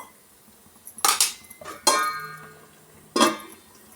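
A plate goes on as a lid over a pot of ghee rice and milk kurma, with three sharp metallic clanks spaced about a second apart, close and fairly loud, with quiet between them.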